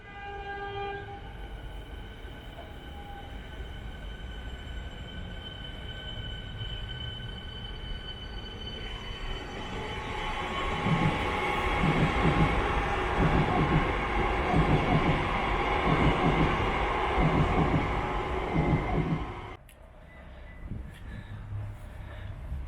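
An express train rumbles through Toorak railway station in Victoria, Australia, at speed without stopping, with a long horn blast, rhythmic wheel clatter building loud, then cutting off abruptly as it passes.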